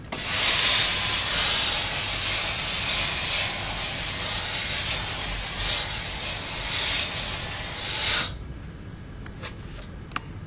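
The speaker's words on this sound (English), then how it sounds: "To start steam ironing, simply press the button underneath the handle to release steam." A Philips steam iron on a high steam setting lets out a loud, sustained hiss of steam that surges for about eight seconds, then cuts off abruptly, leaving quiet with a few faint clicks.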